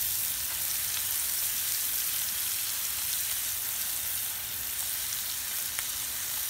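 Smash burger patties topped with melting cheese sizzle steadily on a hot griddle, a dense, even crackle and hiss at moderate level with no talking.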